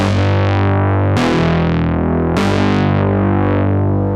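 A bright, buzzy synth bass holds long notes, changing pitch twice with sharp attacks, loud and upfront on its own.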